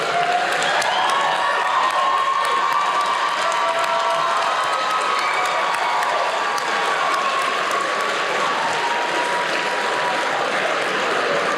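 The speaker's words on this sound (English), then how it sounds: "Let's give every single one of those educators not just a round of applause" Graduation crowd at a 2025 high school commencement gives educators a standing ovation, with sustained loud clapping, cheering and whistles filling the hall throughout, steady and dense from start to finish.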